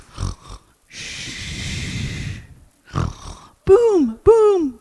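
A person imitates a sloth snoring in a children's story, making a loud snort around half a second, a long raspy breathy snore of about one and a half seconds, then further snorting and grunting voiced sounds.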